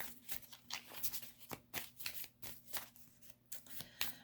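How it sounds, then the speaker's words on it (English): Quick, papery riffling bursts of tarot cards being shuffled, repeating in a loose rhythm at close range with no voices. "And I'm shuffling"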